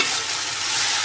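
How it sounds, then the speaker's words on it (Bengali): Okra frying in a pan, a steady bright hiss of hot oil sizzling up close with no talk, holding constant through the short stretch. "এখন ঢেঁড়স ভাজা চলছে"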